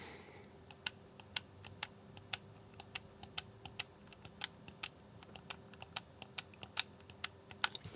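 Buttons on a GameSir G7 wired Xbox and PC controller pressed one after another, crisp snappy clicks in an irregular quick rhythm, close and clear over a faint steady hum.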